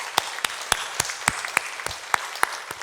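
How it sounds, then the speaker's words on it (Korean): Church congregation applauding during a Sunday evening worship service, a steady wash of clapping with sharper individual claps standing out at regular intervals, no voices over it. "박수로 영광 올려드리겠습니다"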